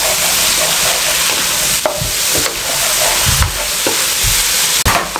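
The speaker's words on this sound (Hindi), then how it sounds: "अच्छे तरीके से 1 मिनट हाई फ्लेम पे इसको पका लें।" Quail karahi sizzling loudly in a pan over a high flame, a dense, steady frying hiss with occasional scrapes and clanks of a spoon stirring, close up and without talk.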